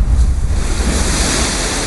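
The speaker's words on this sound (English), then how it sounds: "This is a wave." Ocean surf rolls in steadily, a continuous broad wash of breaking waves with wind noise buffeting the microphone, loud and close throughout with no voices.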